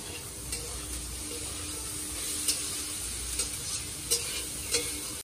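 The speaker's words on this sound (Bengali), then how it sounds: "আর এদিকে উচ্ছে আলু ভাজা করছি" Bitter gourd and potato pieces frying in a pan, a constant loud sizzle punctuated by several sharp spatula scrapes and clicks as they are stirred.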